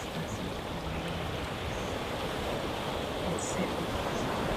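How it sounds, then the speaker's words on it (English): Ocean waves wash steadily against the shore in a continuous, even roar of surf with a faint breezy hiss, holding at a constant level from start to finish with no voices. "I would like for you to just listen to the waves"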